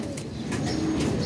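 A jethiya pigeon coos softly and steadily at close range, low and throaty, with faint background chirps and no talking.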